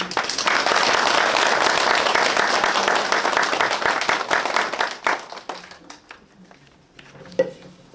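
A hall full of association members applauds loudly to approve the bylaws at a founding assembly, the dense clapping holding for about five seconds before thinning out to a few scattered claps and quiet.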